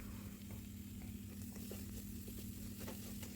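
Chicken masala with ginger-garlic paste and chillies sizzling steadily in oil in a pan while a utensil stirs and scrapes through it, a close, continuous fry with soft stirring strokes and no talking.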